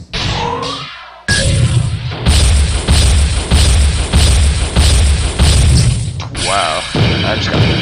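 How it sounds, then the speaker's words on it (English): Fusion mortar and missile barrage explosions in Missionforce Cyberstorm, a rapid, loud series of heavy booming impacts in a steady rhythm, with mechanical clanks between bursts. "Wow, I just got pounded with fusion mortars. There we go, that's the missile barrage I was talking about"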